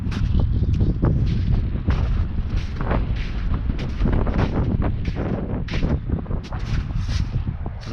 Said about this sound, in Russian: Ветер, ветер, ты могуч.